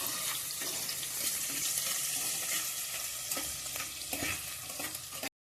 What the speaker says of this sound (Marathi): या सगळा भाजून घ्यायचा, कारण लसणाची एकदम सुगंध येता भारी.